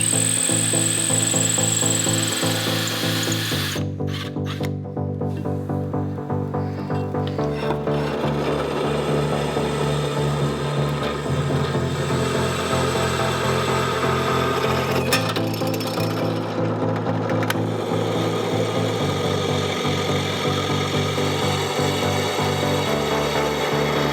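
Holes are hand-drilled into a wooden go-kart engine mount, a steady rough rasping and grinding of the bit biting into wood that runs close and loud for the whole stretch, with brief pauses in the motion.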